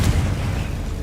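Confringo spell exploding in Hogwarts Legacy, a short, heavy boom with dense rumbling low end that stays loud throughout the brief moment.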